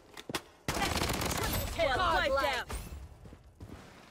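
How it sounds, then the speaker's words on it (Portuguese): Gunfire aimed at the player in Blood Strike crackles loudly in a dense burst, with a few isolated shots before it and a player's voice talking over part of the barrage. "Ixi, alguém tá me atirando"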